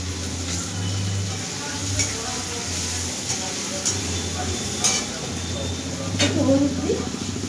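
Masala spices and a slit chilli sizzle in a hot pan, a continuous frying hiss broken by repeated scraping and clinking from a stirring utensil.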